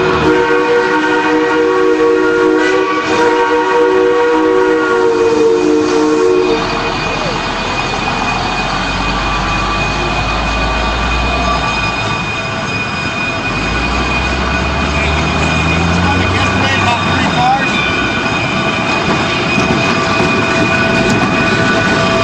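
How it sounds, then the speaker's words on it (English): A Durango and Silverton narrow-gauge train backing up: a steady, close mechanical rumble with sustained whistle-like tones at first, then lower rolling wheel and engine noise that deepens and swells, with faint voices in the background. "The train's backing up faster"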